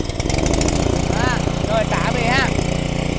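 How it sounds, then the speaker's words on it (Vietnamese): A petrol engine generator, pull-started and then running, gives a steady, close, rapid chugging drone while someone talks over it. "bây giờ em mình sẽ tiến hành giật nổ này với cái động cơ mà chạy xăng"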